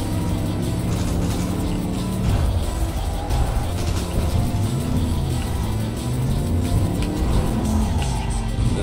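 Cars racing in the video game Cyberpunk 2077, a steady loud roar of engines revving and droning throughout, with pitch shifts as the cars accelerate and pass.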